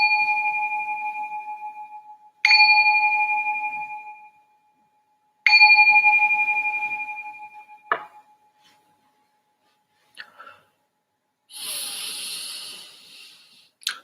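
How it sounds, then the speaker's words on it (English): Meditation bell struck three times, each a clear ringing tone that slowly fades, followed by a few fainter metallic taps and a soft hissing rustle near the end. "ring this bell to signal the start of our second meditation"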